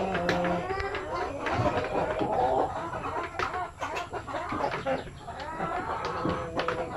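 A flock of laying hens clucks steadily and close by, with overlapping calls and a voice in the background.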